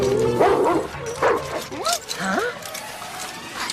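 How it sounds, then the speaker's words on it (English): Cartoon dogs yipping and barking in quick bursts, several short high yelps and whimpers close up, with voices talking alongside. "Those dogs are everywhere."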